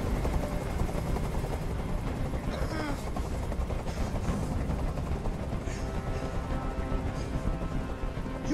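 Steady, dense rotor drone of a hovering helicopter in the video game Detroit: Become Human, during a hostage standoff, loud and unbroken throughout, with faint shouts and bursts of game action buried underneath.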